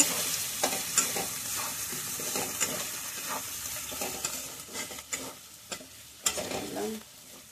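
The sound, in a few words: potatoes frying and stirred with spices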